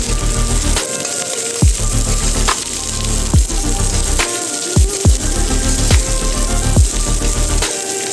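Chopped onion and capsicum sizzle steadily in a hot pan, with a constant loud frying hiss broken by occasional clinks and stirring knocks.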